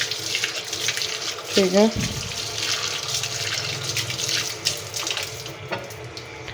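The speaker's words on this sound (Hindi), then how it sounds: "मैं इधर धोती हूँ जी अब हमारा चिकन।" Tap water running into a kitchen sink while chicken is washed, a steady close splashing hiss throughout, with a brief clatter and someone speaking briefly over it.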